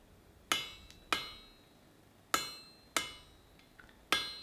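Five sharp hammer blows ring out on hot steel as a cleft weld upset is forged and dressed, spaced irregularly about half a second to a second apart, each with a bright metallic ring that decays quickly; no talking.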